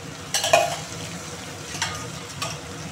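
Spatula stirring boiled eggplant with cumin powder in a pan, a few distinct scraping strokes over a soft, steady sizzle.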